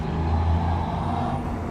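A heavy truck rumbles past on a road, a steady low engine drone with a brief swell near the start and faint air-brake hiss, continuous and fairly close for under two seconds with no talk.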